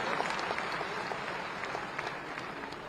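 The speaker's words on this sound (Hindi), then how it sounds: "एक बार जोरदार तालियां हो जाए।" Applause at an office-assumption ceremony for the Chhattisgarh State Beverages Corporation, a soft, distant, steady patter of many hands clapping with a few sharper claps standing out.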